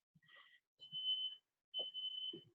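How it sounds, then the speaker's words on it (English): Smoke alarm going off indoors, sounding as short high electronic beeps in separate bursts with silent gaps between, fairly faint, with a few soft knocks and brief low noises in between. "I think the smoke alarm just went off."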